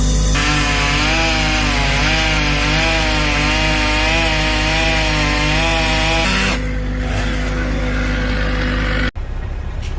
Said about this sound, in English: Dad's getting ready to buck them right now.